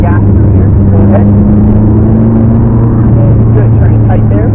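A McLaren 12C twin-turbo engine pulls steadily under acceleration from the driver's seat, a loud continuous low drone with rising tones, while an instructor talks over it.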